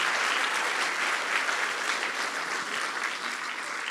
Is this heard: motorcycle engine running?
no